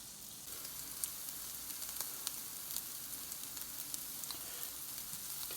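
Mushrooms fry in a pan, giving a soft, steady sizzle at low volume with faint crackles scattered through it and no voices.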